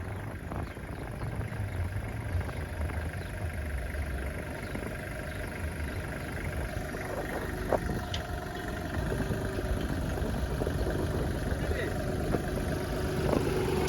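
A Hitachi (Hinomoto) NZ 195 tractor with a Polish Lisicki rotary mower runs at a steady idle, its engine droning evenly throughout, with faint clanks and people talking nearby.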